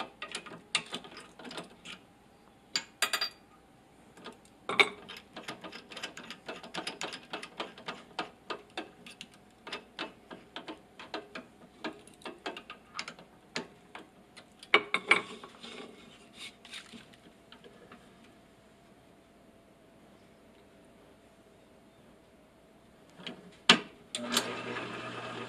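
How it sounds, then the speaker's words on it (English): A screw hole being drilled into a wooden turkey box call, with rapid irregular mechanical clicking and ratcheting, then a faint steady hum and a final burst of noise. "Now we got to put a hole in there for the screw."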